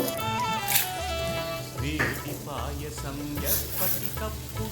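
Chana dal and urad dal frying in hot oil for a tempering give a steady sizzle that runs under prominent background music for the whole stretch.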